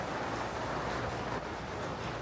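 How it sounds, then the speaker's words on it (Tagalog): Steady rain falls on an old street in Wulai, Taiwan, a continuous close hiss of drops with a faint low rumble beneath, no voices. "Pero ulan pa rin ang ulan."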